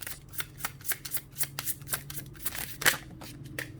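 Tarot cards are shuffled during a card reading, giving a steady run of quick papery riffles and taps close to the microphone with no talking.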